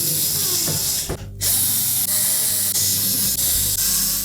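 Screws are driven tight on the back panel of a GE range with a ratcheting tool, giving a close, loud mechanical whir and clicking, interrupted by a short pause and a few sharp knocks.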